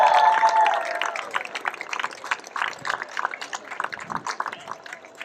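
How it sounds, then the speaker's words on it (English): Audience at an air show VIP reception at a waterfront Hilton breaks into applause, a dense patter of clapping with some cheering that stays steady and then thins toward the end, with voices and faint background chatter mixed in. "Let's give them a round of hands, please. Round of applause."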